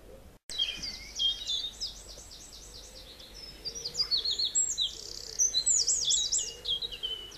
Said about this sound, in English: That's quite nice bird song.